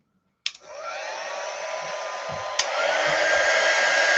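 A hair dryer switches on abruptly and blows with a steady, loud whooshing hum to dry a Halloween craft cauldron, with a brief click partway through as the setting changes.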